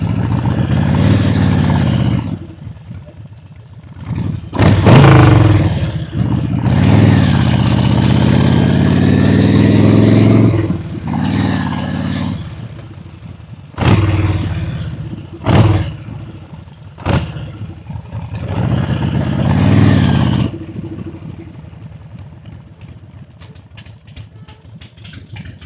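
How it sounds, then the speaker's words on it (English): An old motorcycle engine, brought back after sitting for years, revs up and down in repeated throaty bursts, with clunks from gear shifts and idling lulls between, close and fairly loud. "Then you give the throttle and then it kicks the transmission in."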